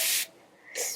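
Two quick hissing spritzes from a spray bottle misting a houseplant leaf with a dish soap, neem oil and rubbing alcohol mix, close and crisp, with a short quiet gap between bursts.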